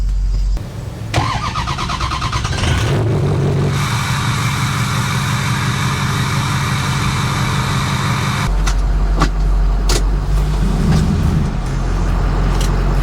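A Ford 6.0 Powerstroke diesel truck, not yet warmed up, idles and pulls away, its engine revving up and settling into a steady drive, loud and close with no talk.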